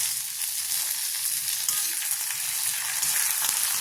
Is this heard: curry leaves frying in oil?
yes